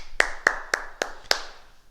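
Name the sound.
group applauding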